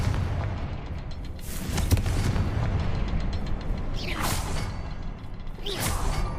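Confringo blasting spell in the Hogwarts Legacy video game, with whooshing casts and booming impacts, several bursts spread over a few seconds with rumbling game ambience between them.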